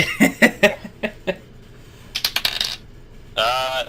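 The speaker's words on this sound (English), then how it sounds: "Time to break open the dice." Dice clatter on a tabletop in a tabletop role-playing game, a run of sharp rattling clicks followed later by a second quick burst, and then a brief voice.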